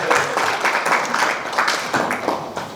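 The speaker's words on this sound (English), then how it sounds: "Give him a round of applause." An audience at a live mentalism performance applauds to welcome a volunteer onstage, a steady wash of clapping that fills the whole moment at moderate loudness with no talk over it.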